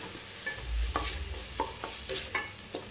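Chopped tomatoes with ginger garlic paste sauté in a pan for Chettinad chicken curry, a steady low sizzle broken by several sharp spoon scrapes and stirring knocks spread across the moment.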